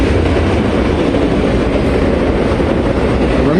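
Freight train wagons loaded with merchandise roll past close by in a loud, steady, unbroken rumble with faint rhythmic wheel clatter, continuing without voices.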